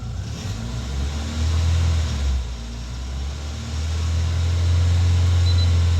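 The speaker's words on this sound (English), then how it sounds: "Two and a half thousand revs." A Vauxhall/Opel Tigra car engine holds a steady 2,500 rpm, a loud sustained drone that rises slightly in intensity toward the end.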